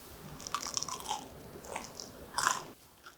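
Crisp bites and chewing of a pan-fried eggplant pancake made without batter, a few sharp close crunches spread over a couple of seconds, the loudest bite near the end.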